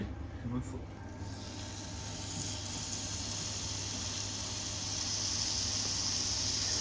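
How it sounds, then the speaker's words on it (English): Steady, bright hissing sizzle of seasoned chicken thighs frying in a hot pan, continuous and close, with a low hum underneath. "all we have to do is let them sizzle"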